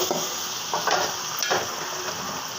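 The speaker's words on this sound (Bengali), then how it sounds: "সবজিগুলো সব দিয়ে দিয়েছি ভালো করে নেড়ে নেব" Winter vegetables frying in a pan with potatoes, a steady close sizzle broken by several scraping stirs of a spoon, with no talking.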